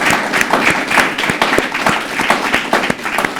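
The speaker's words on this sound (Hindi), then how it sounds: "तो एक बार जोरदार तालियों से अपनी मौजूदगी का एहसास कराइए" A studio audience claps vigorously at a televised discussion show, with rhythmic, closely spaced hand claps, loud and near, continuing steadily.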